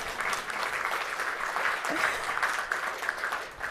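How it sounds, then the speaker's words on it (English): An audience at a lunchtime symposium applauds a panelist, steady dense clapping that holds evenly throughout at moderate level with no speech over it. "You can give him an applause for this one."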